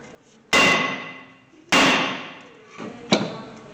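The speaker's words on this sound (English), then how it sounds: "So now I take the hammer, beat this thing off." Two loud metallic hammer blows ring out about a second apart against a brake caliper bracket on a 2013 Hyundai Santa Fe, each decaying slowly, followed by a lighter clank.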